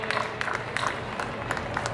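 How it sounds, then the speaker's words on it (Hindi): An audience at a school award ceremony applauds a student prize winner, a brief patter of many hands clapping together at moderate volume. "ताली हो जाए इस बच्चे के लिए।"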